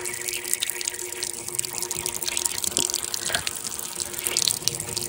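Pressurised water streams from a drip irrigation pipe in a garden system of about 250 metres of tubing, a close, continuous hissing gush with faint splashing and no voices.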